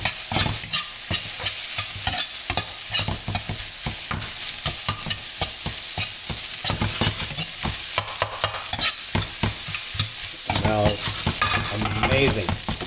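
Garlic egg fried rice sizzles steadily in a hot pan while a utensil scrapes and tosses it in quick, continuous strokes, loud and close throughout.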